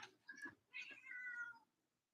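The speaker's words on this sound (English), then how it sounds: "Kitties are really riled up by this energy." House cats meow in agitated, drawn-out cries, two or three close calls in quick succession at a low level, with no speech over them.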